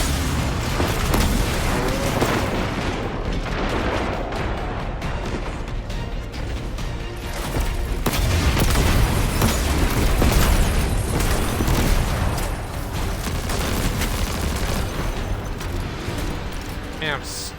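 Destiny 2 combat with sniper and gunfire: a dense, continuous barrage of booming shots and crashing impacts that swells louder near the middle, with game voices mixed in.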